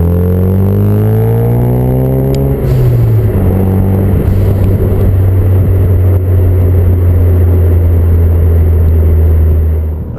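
A Ford Focus RS with a 3-inch MagnaFlow stainless steel cat-back exhaust and 4.5-inch polished tips revs loudly and close. Its deep droning note climbs and falls through the rev range without a break.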